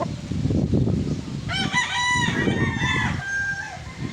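Gamefowl rooster of the Sweater Raptor bloodline crowing once up close and loud, its long drawn-out cry rising and tapering over a rough farm background.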